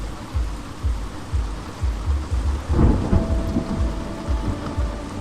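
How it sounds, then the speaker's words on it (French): Heavy rain pours down steadily while low thunder rumbles and booms in repeated rolls, loud and continuous with no talking. "Oh, ça verse"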